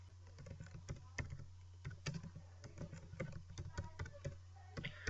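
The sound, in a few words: typing an address on a computer keyboard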